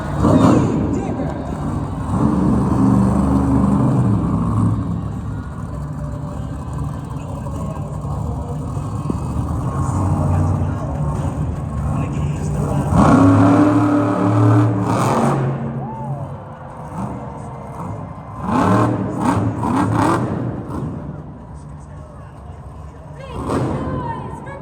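A monster truck engine roars and revs during a Sky Wheelie at a Monster Jam arena show, with loud surges and thumps. An announcer and the crowd carry on over the machine throughout.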